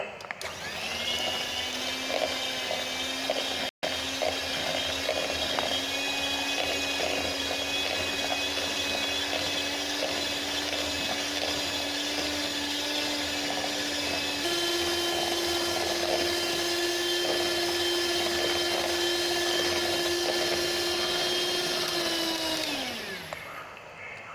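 An electric mixer beats butter for cake in a clean bowl, giving a loud, steady motor whine that steps up in speed partway through and then winds down at the end. No voices are heard over it.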